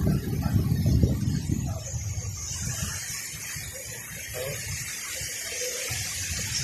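Sea water at high tide washes in a steady, broad rushing roar, loudest at first and then settling to an even wash, with a voice faintly heard underneath.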